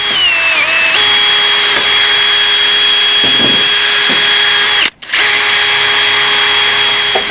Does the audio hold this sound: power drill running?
yes